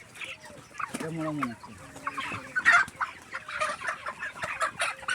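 Several broiler chickens cluck and squawk in agitated bursts while being caught, with a rooster call near the start and scattered rustling and handling noise throughout.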